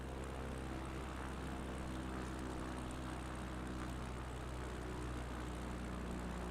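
A propeller airplane with flaps down on approach to a short runway in the Pyrenees gives a steady, loud, continuous engine drone with no breaks or voices.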